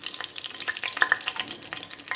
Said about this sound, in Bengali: প্রথমে কড়াতে একটু তেজপাতা দিয়ে দিলাম, ওই এঁচোড় আর আলু ভাজার তেলের ওপরই দিলাম।